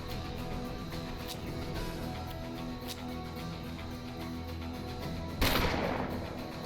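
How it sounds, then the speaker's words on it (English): A single loud gunshot cracks out near the end of a Hard West video game scene, following a quieter stretch of steady background music and faint game sounds. "Point blank, gut shot, gotta love it."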